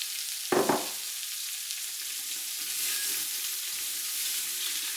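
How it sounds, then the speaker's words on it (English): Sliced green pepper and white onion hit melting butter in an Instant Pot, starting with a brief loud clatter, then settling into a soft, steady sizzle. "we're going to add 3 tablespoons of butter. We're going to add in the sliced up green pepper and the sliced up white onion"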